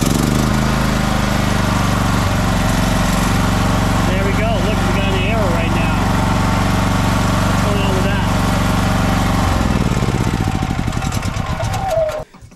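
A Champion 100520 inverter generator engine runs steadily on full choke, loud and close with a constant drone, then cuts out and sputters to a stop near the end.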